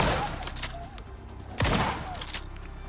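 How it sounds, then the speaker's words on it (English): A shotgun with a seven-shot magazine fires in the survival game Icarus, heavy blasts with a loud crack near the middle and another earlier, amid game noise and someone talking. "Love this shotgun."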